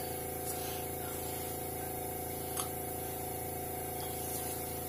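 Steady airbrush hiss of paint spraying through a stencil, a continuous broadband rush with a faint pump-like hum beneath, even in loudness across the whole stretch.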